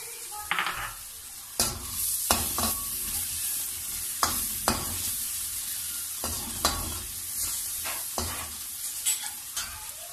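Mutton liver and spices sizzle in a pan with green garlic, under a continuous frying hiss. Scraping spoon strokes and clinks from stirring come through at irregular intervals.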